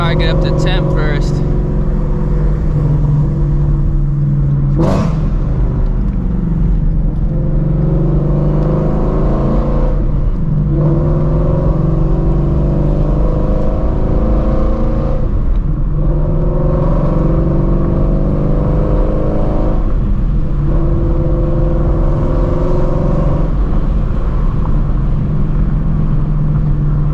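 A Shelby GT350 Mustang engine drones steadily while the car is driven and warms up, a loud close rumble with a few rev swells and shifts, with someone talking over it at times.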